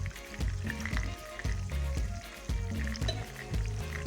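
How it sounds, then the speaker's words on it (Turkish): Köfte meatballs frying in preheated hot oil give a steady close sizzle, partly masked by rhythmic background music with a regular beat. "Önceden kızdırdığımız yağımıza köftelerimizi yavaşça bırakalım."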